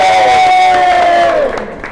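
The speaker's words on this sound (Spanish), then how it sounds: "¡Un aplauso para la cocinera!" A neighborhood crowd at a street food gathering erupts in loud cheering and shouting for the cook, a brief rising burst of voices close by.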